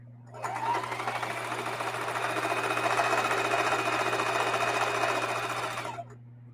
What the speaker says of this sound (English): I don't want to sew over the corner of two thicknesses